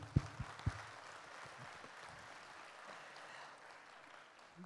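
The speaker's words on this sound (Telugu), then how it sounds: "జస్ట్ నా గురించి కాదు, రేవంత్ గురించి కాదు, ఎంతోమంది బిహైండ్ ద సీన్స్ వర్క్ చేశారు, వాళ్ళందరికీ ఒకసారి క్లాప్స్ కొట్టాలి." An audience applauds at a film pre-release event: a few sharp claps at the start, then a soft, distant patter of clapping that fades out, with no voices.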